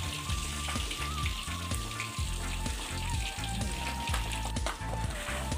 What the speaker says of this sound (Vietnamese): Chiên cho nó thiệt vàng luôn á nó mới giòn nha các bạn.